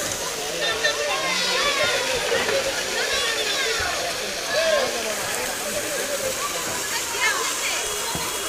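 Muddy Ganges water pours and sloshes as a machine pumps it into the river at Taherpur, a continuous splashing rush with voices murmuring beneath it.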